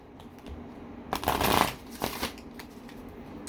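Oracle cards being shuffled in a deck, a soft papery riffle and flutter building to a dense burst near the middle, then a short second shuffle, close and alone with no talking.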